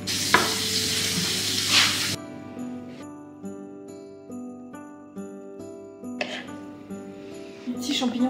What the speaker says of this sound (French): le beurre que je vais faire fondre